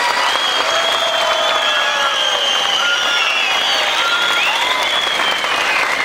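A live audience claps steadily for a singer, a dense, even wash of applause that holds without pause from start to finish, with faint crowd murmur beneath it.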